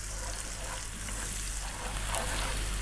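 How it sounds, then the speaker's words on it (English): Finely chopped onions fry in a pan over slightly above medium heat for chicken curry, giving a steady, continuous sizzle with a low hum beneath, no voices. "We're going to start by dropping in a cup of finely chopped onions."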